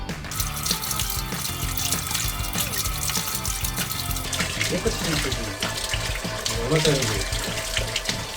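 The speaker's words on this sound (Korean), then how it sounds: "흐르는 물에 세척을 합니다." Tap water runs steadily over greasy diesel engine parts being washed at a workshop, a continuous splashing rush with shifting clatter of parts in the stream.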